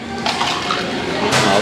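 Water poured into glasses, a steady splashing flow with surges in intensity, heard inside a vehicle while people talk nearby.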